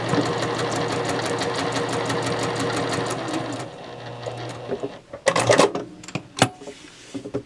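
A sewing machine stitches fabric binding strips for a crochet blanket, running in a fast, even, close mechanical patter for several seconds before stopping, followed by a few scattered clicks and taps.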